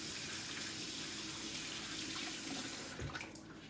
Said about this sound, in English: Wash my hands off a little bit.